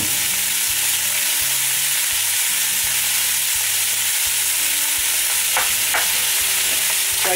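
Minced beef frying in a hot pan with a little olive oil, giving a loud, steady sizzle that stays close throughout, with scraping stir sounds rising near the end.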